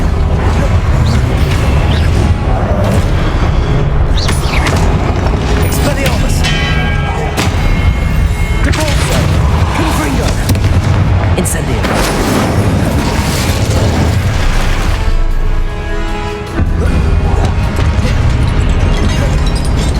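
Confringo spell explosions in the Hogwarts Legacy video game: loud, dense booms and crashes pile up almost without pause, with one brief dip near the end.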